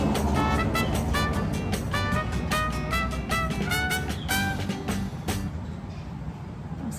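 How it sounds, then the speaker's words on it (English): A squeaky truck gives a run of repeated high, tonal squeals over a steady low rumble, loud and close, fading out near the end. "It's a very squeaky truck."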